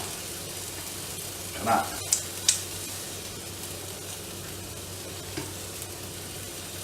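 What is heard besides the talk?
scrambled egg frying in a pan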